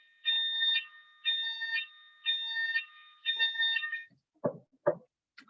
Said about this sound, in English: it's the weekly fire alarm at work